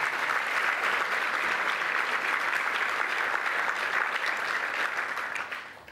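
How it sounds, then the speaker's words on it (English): A large audience applauds at an ethnic business awards event, with steady, even clapping from many people throughout that fades slightly at the very end. "Please give him a round of applause."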